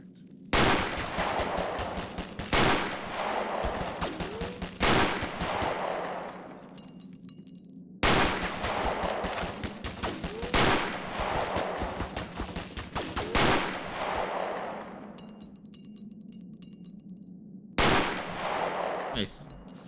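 A mounted sniper rifle fires in a Half-Life 1 total conversion mod, three sharp loud blasts each trailing a long decaying boom, spaced several seconds apart, with no speech.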